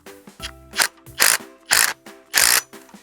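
A socket wrench tightens a bolt on a backyard zipline, giving several short bursts of rapid ratcheting clicks close to the listener, with brief pauses between strokes and no talking.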